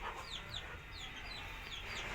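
Desi chickens cluck softly nearby in a steady low chatter, with small chirping calls over the top.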